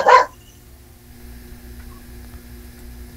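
A single sharp dog bark sounds right at the start, fairly close, followed by quiet room noise and a low steady hum.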